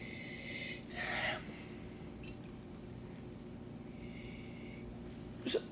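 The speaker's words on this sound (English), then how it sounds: "Let's give it a little sniffy sniff." A couple of short, soft sniffs of a 2006 Mollydooker wine in a glass, close to the mic over a quiet background hum, with a faint glassy clink near the end.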